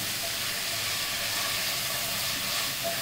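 Spleen with turmeric and ginger-garlic paste fries in a pan, making a steady, dense, close sizzling hiss that holds evenly throughout, with no talking.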